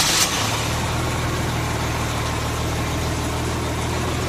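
Boat engine with a new fuel-water separator and fresh high-test fuel: a short cranking burst catches at once and settles into a steady, smooth, close idle drone that runs alone.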